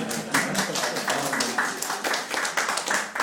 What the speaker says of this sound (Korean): 박수 또 쳐주시죠.